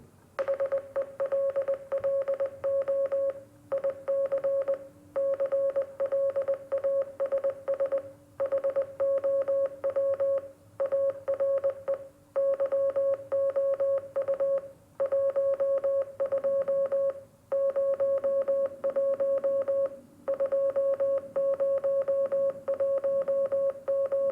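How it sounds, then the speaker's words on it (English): A steady electronic tone keyed on and off in rapid dots and dashes, with brief pauses between groups, loud and continuous throughout. "So let us listen a Morse code for hello IC class"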